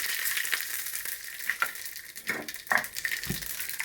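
Cumin seeds crackle and sizzle in hot oil alongside whole garam masala, with a steady frying hiss broken by scattered sharp pops and a few louder spits.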